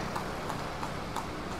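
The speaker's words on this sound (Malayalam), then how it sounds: "ആ ഭാഗത്തു നിന്നായിട്ട് നമുക്കൊരു കുതിരവണ്ടി പോകുന്നതാണ് കേട്ടോ" A horse-drawn carriage in Mysore passes by, its hooves giving soft, evenly spaced clip-clops roughly every third of a second over steady street ambience, moderately distant.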